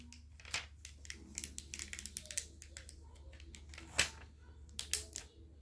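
Close, quiet snips and crinkles of tape being trimmed down while making acrylic bling earrings, a string of small irregular clicks with a couple of sharper cuts.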